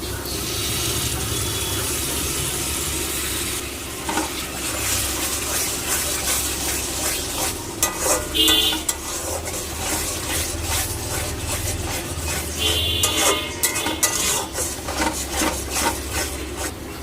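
Spice paste mixed with yogurt is sautéed for a katla fish curry. A spoon scrapes and rubs steadily against the pan with a soft sizzle, close up, with a few sharper scraping bursts.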